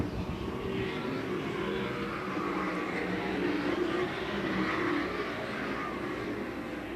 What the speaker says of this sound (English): Johnny Herrera with clean racetrack in the 45X as we'll come to 5 laps remaining.